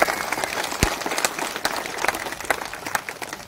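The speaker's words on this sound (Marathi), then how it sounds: "एकदा सगळ्यांनी आपल्या सर्वांसाठी जोरात टाळ्या वाजवायच्या आहेत." An audience at a temple consecration and idol installation ceremony claps together, a dense rattle of many hands close by with a few louder individual claps standing out, fading slightly toward the end.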